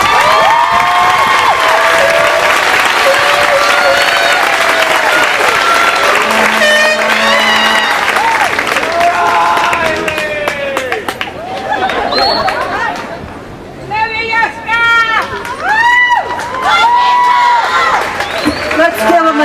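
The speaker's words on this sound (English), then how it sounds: "Let's give them another round of applause" A high school graduation audience claps and cheers loudly, with whoops, shouts and crowd chatter layered together. The noise fades briefly, then surges back into fresh applause.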